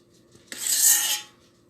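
A single harsh metal scrape across a pan, close and loud, lasting under a second.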